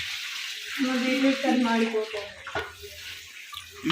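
Beetroot frying in a home kitchen pan gives a soft sizzling hiss, with stirring scrapes and a sharp clatter near the middle; a voice talks quietly over the first part.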